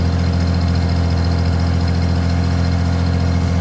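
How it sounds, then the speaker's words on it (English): A 1947 Plymouth six-cylinder engine idling, its exhaust giving a loud, steady low burble with an even mechanical throb, heard up close without any talking. "you can listen to this motor. Listen at that exhaust."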